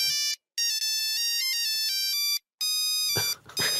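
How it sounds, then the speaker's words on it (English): A mobile phone ringtone plays as a series of bright electronic melodic notes in two phrases separated by a short gap, loud and close, with some noise at the end. "Your phone seems to be going off, John"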